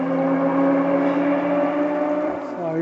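Steady engine drone with layered harmonic hum, likely motorcycles idling or passing in the background near a small stream and pipe at Centralia, Pennsylvania, continuous and fairly loud throughout with no talk.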